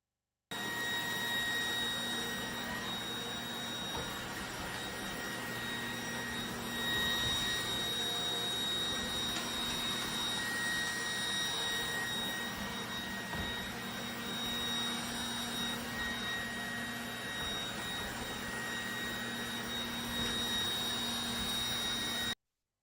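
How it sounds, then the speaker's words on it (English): A Trifo robot vacuum cleaner runs through a demonstration with a steady, fairly quiet whirring hum and faint tonal whine, continuous and unchanging for over twenty seconds with no talking. "let me show you this video, just how the robot vacuum works"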